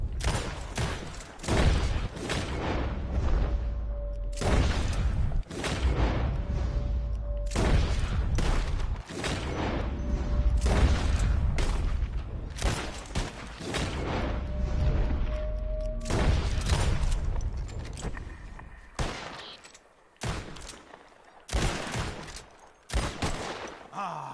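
Rapid bursts of gunfire crackle through a shootout in Red Dead Redemption 2, repeated sharp shots and volleys in dense clusters with brief pauses, loud and close throughout.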